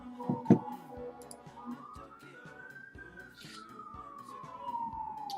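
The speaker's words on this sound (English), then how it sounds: "That was a fire truck." A fire truck siren wails from outside, one long rising and falling tone sweeping past at moderate distance with a few light taps and clicks nearby.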